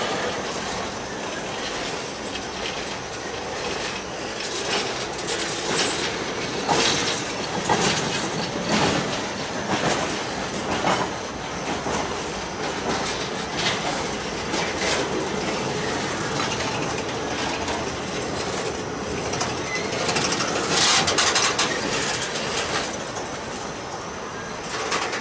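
A long CSX freight train rolls past at night, a steady rumbling clatter of wheels and rattling cars with squeals and clanks, loud and continuous throughout without letup.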